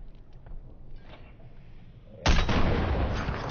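Gunfire in an online shooter game, heard faintly with small pops at first, then a loud, sustained blast of shots and roaring noise that sweeps in abruptly and continues to the end.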